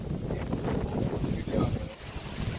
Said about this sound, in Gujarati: પવન તો જોવો ગાઈસ.